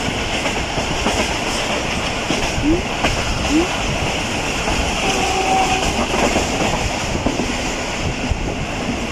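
Awam Express running near Karachi in extreme heat, heard from inside a coach: a dense, continuous rattle and rumble of wheels and carriages with clickety-clack under steady wind noise.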